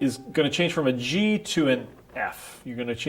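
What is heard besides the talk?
No everyday noises stand out.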